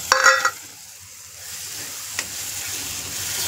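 Spatula clinks and scrapes at the start, then soft sizzling as prawns and peas masala is stirred in a pan, one more brief scrape later; no talking.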